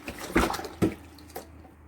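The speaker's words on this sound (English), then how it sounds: "I'm gonna wash the pineapple in soapy water" A pineapple being washed in soapy water: two distinct splashy sloshes close by, then a softer third splash, with faint dripping between, no talk.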